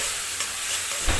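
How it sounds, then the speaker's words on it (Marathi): Ginger garlic paste fries in hot oil for dal khichdi, a dense, even sizzle close up with a brief stir near the end. "आलं लसणाची पेस्ट सुद्धा आपल्याला छान अशी भाजून घ्यायची आहे तेलामध्ये"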